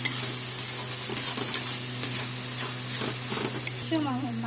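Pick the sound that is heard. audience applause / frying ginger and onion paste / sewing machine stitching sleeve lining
frying ginger and onion paste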